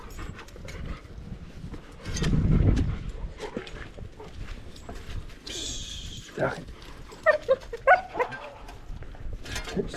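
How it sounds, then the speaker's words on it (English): A dog pants and scuffles outdoors with a faint bark, mostly low and soft, with some brief sharper sounds later on. "and here comes the dog"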